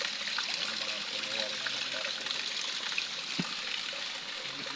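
A creek flows with a steady, close rush of water that stays even throughout, with no voices.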